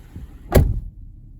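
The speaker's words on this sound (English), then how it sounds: "Oh, that door, the way it closes." A 2020 Lexus RX350 door swings shut with a single solid, muffled thump near the middle, close by, after a quiet low rumble of background.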